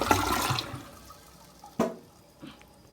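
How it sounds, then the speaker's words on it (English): A hotel toilet in a suite at Fern Resort flushes with a close, rushing gush of water that quickly drains away, ending in a gurgle and a few faint drips. "that was the flush sound of the toilet in my suite at Fern Resort"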